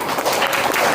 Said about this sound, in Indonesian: kasih tepuk tangan dong buat kelompok 3